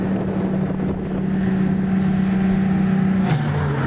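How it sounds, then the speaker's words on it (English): Race cars at the start of a USTCC touring car race at Spring Mountain, Las Vegas, drone steadily with engine tones that hold and then drop, heard through strong wind noise at a distance. "And here we are, just in time as we watch the race start."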